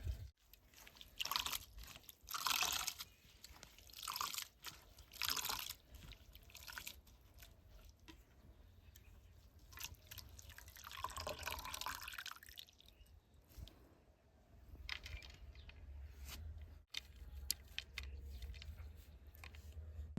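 Chopped coriander leaves being washed in water, faint close splashing, dripping and rustling of wet leaves in irregular handfuls, with no talk.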